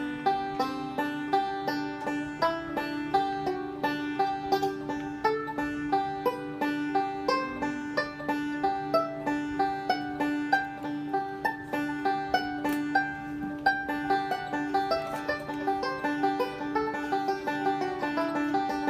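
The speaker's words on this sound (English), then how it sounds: "here's what this scale sounds like with me playing this" A guitar scale is played softly as a rolling pattern across the strings, a quiet, continuous stream of rapid plucked notes with an even rhythm for nearly twenty seconds, close and without voices.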